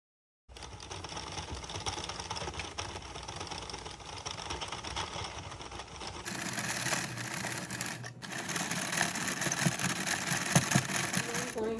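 Hand-cranked circular knitting machine working through rows, a continuous rapid clicking and rattling that grows brighter and busier partway through, close and steady with no talk.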